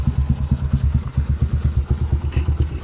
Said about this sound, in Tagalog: pinapainit ko na lang yung kanyang makina dahil ano kakalabas pa lang niya sa garahe